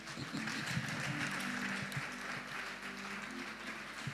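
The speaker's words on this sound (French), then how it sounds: "Nous allons vous accueillir par les acclamations." A congregation at a Sunday worship service claps and cheers to welcome first-time visitors, a warm, even wash of applause filling the room for a few seconds.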